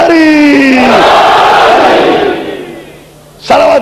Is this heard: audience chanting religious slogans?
yes